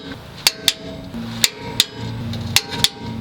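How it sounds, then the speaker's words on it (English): Lift kit bolts on a Ford F-250/F-350 are tightened with a torque wrench, giving a series of sharp metallic clicks in uneven pairs over a steady low background hum, close and fairly loud. "we're going to want to torque them down to 185 foot-pounds"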